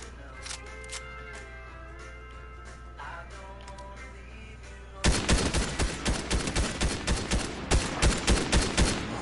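A rapid burst of gunfire from the video game Fortnite erupts after a quieter stretch of game sounds, with evenly spaced loud shots repeating in a steady rhythm toward the end.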